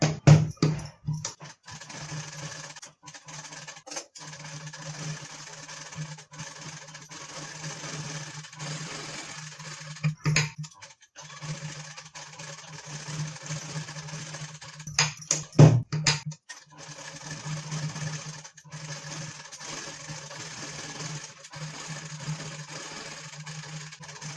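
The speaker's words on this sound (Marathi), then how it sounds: "तर इथे यावर आपल्याला शिलाई करून घ्यायचं आहे" A sewing machine stitches a blouse lining to saree fabric in bursts of steady whirring, broken by short pauses and a few sharp clunks and handling knocks.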